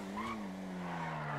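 Tires squeal as a white Vysser Neo sports car brakes hard in GTA V Online, a steady close skid with a gliding tone layered over engine noise.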